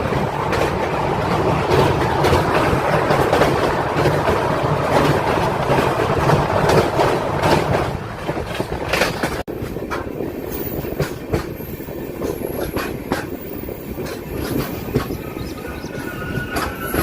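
A passenger express train with LHB coaches rumbles past at a single-line crossing near Guntur, a loud continuous roar with rhythmic wheel clatter that thins slightly toward the end as cars keep rolling by.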